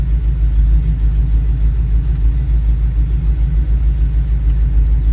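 A Chevrolet Camaro engine drones steadily while driving in the lower gears, a loud, continuous low rumble with no talk over it.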